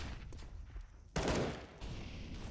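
Desert Eagle pistol shots in a Counter-Strike match on the map Ancient, heard as a sudden sharp report partway through with a short echoing tail, set against low background game noise.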